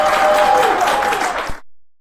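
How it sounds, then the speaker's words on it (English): A studio audience applauds a business-show guest, loud, dense clapping over a faint background tone that cuts off abruptly. "Let's give him another round of applause."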